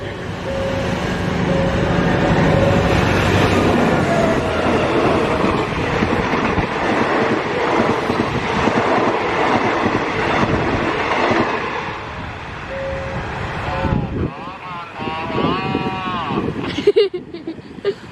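A passenger train passes a road level crossing at U Thong, Thailand, a loud steady rumble with wheel clatter that lasts for most of the span before fading, and a voice speaks briefly near the end.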